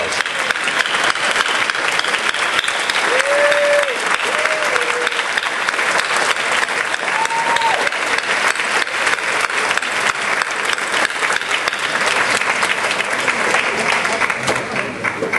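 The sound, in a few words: applause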